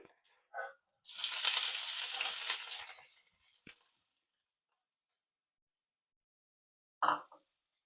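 Garlic and onions frying in a pan for a prawn and gongura curry, a loud bright sizzle swelling for about two seconds then fading, with brief clicks before and after and a quiet stretch in between.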